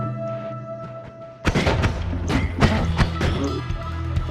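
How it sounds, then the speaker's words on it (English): An explosion in the pixel-physics game Noita bursts out suddenly: a loud, deep boom followed by a scatter of thuds and crackling debris impacts, with sharp transients repeating for several seconds. "That explosion bounced him toward me."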